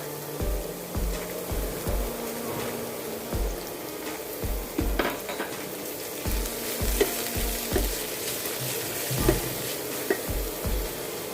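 Sliced onions and capsicum frying in oil for veg fried rice, a loud continuous sizzle broken by a rhythmic series of stirring scrapes and knocks against the pan.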